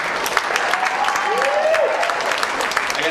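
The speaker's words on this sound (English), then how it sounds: "Gentlemen, a round of applause for 2018 SRCAR President Steve Wright" Gentlemen at an association's annual installation celebration applaud the incoming 2018 SRCAR president, steady crowd clapping with a faint sliding whistle-like tone and some voices mixed in underneath.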